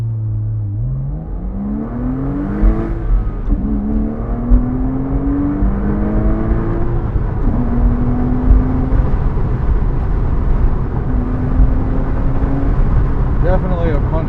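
A 2005 Porsche Boxster S accelerates from a standstill to 60 mph, its engine rising in pitch through several upshifts with brief dips between gears, loud and steady from inside the car under road noise.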